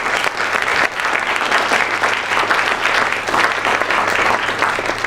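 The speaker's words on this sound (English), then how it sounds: "Why don't we give them a round of applause?" An audience claps steadily for a children's performance at a symposium, a sustained, loud, even roar of many hands with no break and no speech over it.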